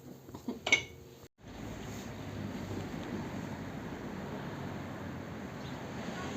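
Cups and dishes clink a few times, faint and close, while tea is being made, then give way to a quiet, steady background hiss.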